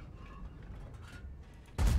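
A tank gun fires in the World of Tanks-style game on the Prokhorovka map, a sudden loud boom near the end after quiet mechanical background.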